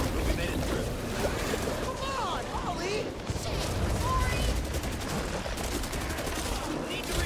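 Explosions and chaotic combat noise in the zombie co-op shooter Back 4 Blood, a dense, loud wash of blasts and gunfire running throughout under excited talking voices.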